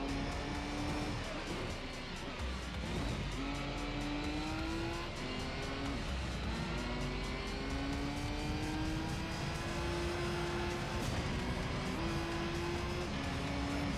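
A race car engine in the video game Gran Turismo 3 roars steadily and loud throughout, its pitch climbing and dropping through gear shifts, with no talking over it.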